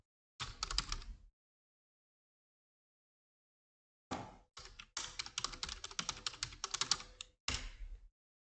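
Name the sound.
typing a password on a computer keyboard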